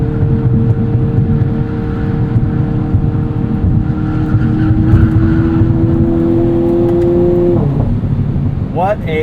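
Hard acceleration in a 2022 Hyundai Kona N hot hatch, a loud steady engine drone climbing in pitch for several seconds, then a quick drop and a rising rev as the next gear catches, with a possible hint of tyre noise.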